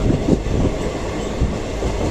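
A long-distance passenger train running on rails between Hyderabad and Kolkata gives a loud, continuous rumble with a faint rhythmic clatter of wheels, heard from inside the carriage.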